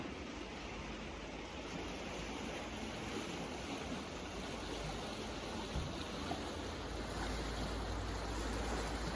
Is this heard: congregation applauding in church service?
no